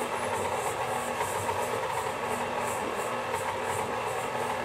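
A stand mixer churns pita dough with a continuous steady whir and hum, a faint rhythmic pulsing riding on top of the motor drone throughout, with no talking.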